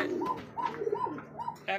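Young pigeons coo in a close, soft series of four rounded calls at a steady rhythm, with a brief rustle at the end.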